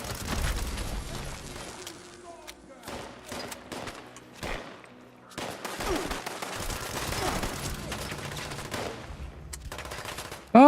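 Rapid bursts of gunfire crackle through a Fallout 76 ambush, loud and sustained across the whole stretch with several short gaps, overlapping automatic fire and scattered single shots, with no speech.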